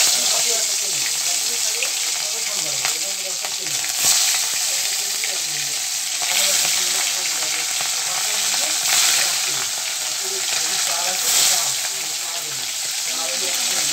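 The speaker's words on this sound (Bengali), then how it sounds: "আমি এবার আস্তে করে মাছগুলো দিয়ে দেব।" Fish frying in hot mustard oil in a wok makes a steady, dense sizzle that runs throughout, with occasional stirring clatter and soft bursts, close and continuous without talk.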